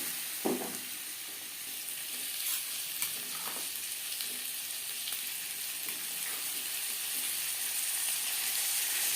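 Potato pieces coated with turmeric and salt fry in hot oil, giving a continuous sizzle broken by a few soft scrapes as they are stirred, close by and with no voices.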